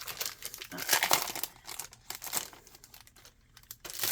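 A plastic bag crinkles and rustles up close in quiet, irregular bursts as something is handled and pulled out of it.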